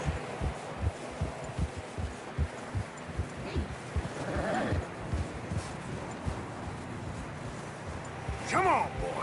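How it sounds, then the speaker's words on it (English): Horses trudging through deep fresh snow in Red Dead Redemption 2, giving soft, muffled, evenly repeated hoof thuds at close range, with a brief voice near the end. "Come on, boy. Horses are struggling. Yeah, a lot of fresh snow here."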